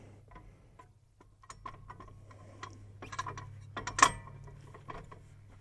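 Spring-loaded detent lever on a hydraulic spool valve working a third function, clicking and clattering in a few light mechanical ticks, with one sharp snap near the end as the lever jumps back into place.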